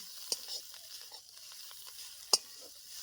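Sweet mixture made from ash gourd, with cardamom powder just added, is stirred in a pan, soft scraping strokes with two sharper knocks of the spoon, faint and close, no voices.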